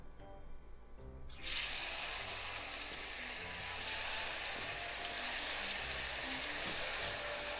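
Sweet potato slices for egg-free Japanese tempura drop into hot oil and sizzle steadily, a faint quiet kitchen hush giving way to a sudden, continuous crackling fry that stays even and close.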